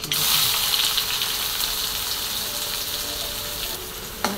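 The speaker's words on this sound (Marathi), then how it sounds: "इथे 2 कांदे मी कट केलेले ते टाकून घेतले" Chopped onions tipped into hot oil with mustard seeds and cumin, a loud, steady close sizzle and crackle that stays strong throughout, with a brief clatter near the end.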